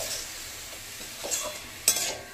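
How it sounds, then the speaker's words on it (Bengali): Semolina being stirred with sugar syrup in a pan for suji malai barfi, a soft scraping stir with a faint sizzle and a sharper clink near the end, quiet and close with no talking. "এভাবে অল্প অল্প দিতে হবে আর নাড়তে থাকতে হবে"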